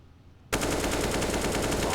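Rapid automatic gunfire erupts abruptly after a brief quiet start in Counter-Strike on the Nuke map, a pro match at IEM Dallas 2022, continuing as a loud, dense, sustained burst to the end.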